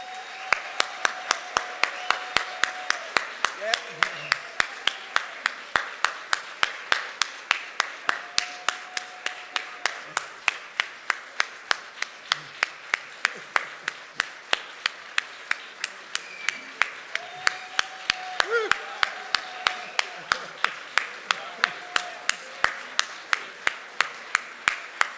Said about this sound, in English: a thunderous round of applause for the man we're honoring tonight, Professor Timuel D.